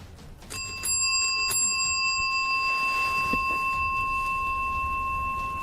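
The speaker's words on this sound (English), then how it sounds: "He rings the bell a few times to show James that it works" Hand bell rung a few times, bright metallic rings that leave a long, clean sustained tone ringing out over a quiet room background.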